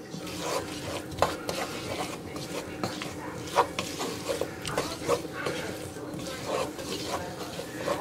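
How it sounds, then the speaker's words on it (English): Flour being stirred into vegetables in a pot to thicken a corn chowder, a steady close scraping and swishing with faint sizzling, continuous for several seconds with no talk. "I'm going to stir this in really good. Get the vegetables all good and coated."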